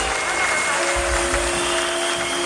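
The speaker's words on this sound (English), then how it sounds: "Give the Lord a round of applause" A church congregation applauds in praise to the Lord, a dense, steady roar of clapping filling the room without pause, with faint tonal hum from the sound system underneath.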